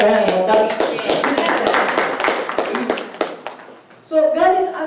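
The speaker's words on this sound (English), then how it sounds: "You can clap your hands like that." Hands clap in a quick, irregular run of sharp claps under a speaking voice, then a voice continues alone.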